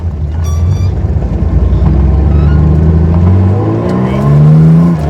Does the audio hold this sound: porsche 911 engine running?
yes